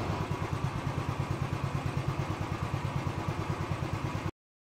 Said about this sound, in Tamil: அப்புறம் லைட்டாக த்ராட்டில் கொடுங்க, ஓவர் த்ராட்டிலும் கொடுக்கக்கூடாது.